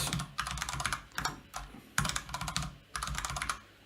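Computer keyboard keys tapped in several quick bursts with short pauses between them while a password is entered on a new crypto wallet account, close and clear with no talk.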